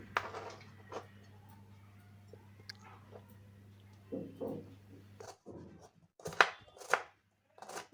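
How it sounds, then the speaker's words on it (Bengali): Onions being finely diced with a knife for a home-cooked fish dish: scattered, irregular knife taps, some close and sharp, others softer, over a steady low electrical hum, with no talking. "এই যে রান্নার জন্য কেটে নিচ্ছি পেঁয়াজগুলোকে। ছোট ছোট কুচি কুচি করে কেটে নিতে হবে।"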